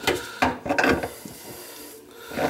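Plumbing fitting being tightened under a bathroom sink, a series of short scraping, rasping turns with brief pauses, close and fairly loud, no talking.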